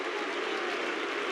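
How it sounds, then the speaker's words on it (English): A basketball arena crowd at a Real Madrid versus Panathinaikos EuroLeague game applauds in a steady, dense roar of clapping heard from a distance, continuous and even throughout. "Listen to the plaudits of the crowd as well."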